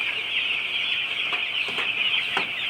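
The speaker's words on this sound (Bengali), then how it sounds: "এই যে দেখুন সব মুরগি কিন্তু খাবারের জন্য পাগল হয়ে গেছে।" Hungry broiler chicks on a poultry farm at feeding time, a dense constant chorus of high peeping and chirping from many birds at once, fairly close, with no talking.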